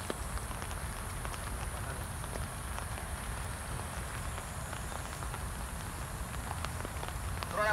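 Steady rain patters on a surface close by during fishing in Xindian, Taipei, Taiwan, a continuous hiss of drops with no letup.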